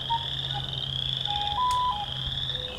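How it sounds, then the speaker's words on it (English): Western chorus frog and wood frog calls at a vernal pool, a steady high trilling chorus running throughout with a low continuous hum beneath and brief faint tonal notes over it. "calls of the western chorus frog and the sort of growling call of the wood frog"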